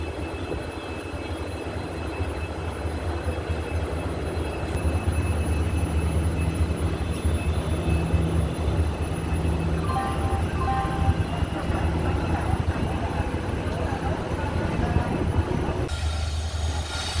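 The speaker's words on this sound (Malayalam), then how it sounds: "അവൻ അവിടെ നിന്ന് വരുന്നുണ്ട്, ഗുരുവായൂർ മധുര എക്സ്പ്രസ്" Guruvayur Madurai Express hauled by a WDP4 diesel locomotive rolls into a station, a steady loud rumble of wheels and wagons with faint squeal and clatter throughout, briefly dropping at the end.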